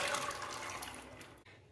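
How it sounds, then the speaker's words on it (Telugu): Water pours steadily into a pressure cooker pot of soaked kabuli chickpeas, a close, continuous splashing and filling that cuts off sharply near the end. "శనగలు మునిగే వరకు వాటర్ వేసుకోవాలి"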